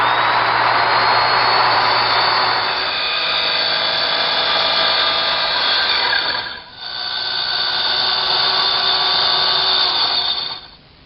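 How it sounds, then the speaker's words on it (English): A small circular saw crosscuts plywood for a doll house floor model, giving a loud, sustained whining roar that briefly dips mid-cut before resuming, then winds down at the end. "I'm going to use a small circular saw and a square to help guide me to make the crosscuts"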